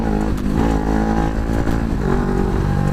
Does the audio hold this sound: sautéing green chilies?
no